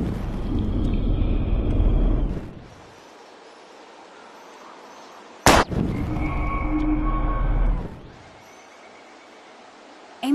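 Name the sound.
gunshot shooting bottles in video game Life is Strange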